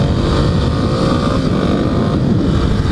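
Kawasaki KLX300 dirt bike climbing a hill, its single-cylinder engine droning steadily and close with constant throttle, overlaid by wind rush and no speech.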